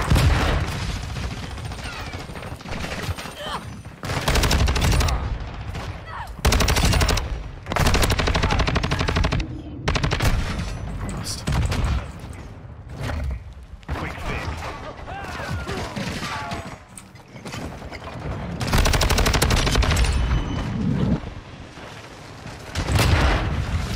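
A player's gun firing in a video game shooter: repeated loud bursts of automatic gunfire with heavy booms, broken by short pauses across the stretch, with occasional voice underneath.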